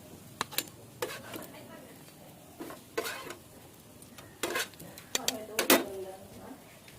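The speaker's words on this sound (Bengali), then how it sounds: "আমি উঠিয়ে নেব একটা থালায়।" Egg toasts lifted from a pan onto a plate in a home kitchen, with sharp clinks and clatters of dishes and utensils in scattered bursts, fairly quiet, with someone speaking now and then.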